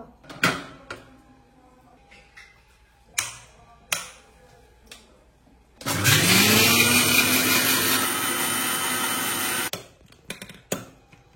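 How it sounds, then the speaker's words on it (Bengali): A kitchen mixer grinder pulverises mustard seeds, green chillies and garlic into paste, a loud whirring burst lasting about four seconds, framed by scattered clicks and knocks of handling the jar before and after. "এখন এটাকে মিক্সির দ্বারা পেস্ট করে নেব।"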